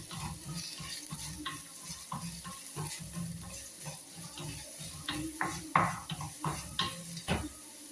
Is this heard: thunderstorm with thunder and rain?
no